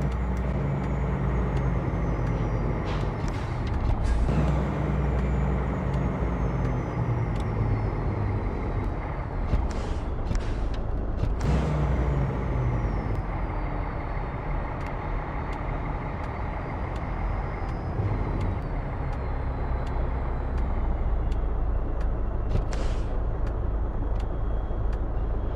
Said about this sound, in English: I'm going to turn on the engine brake and watch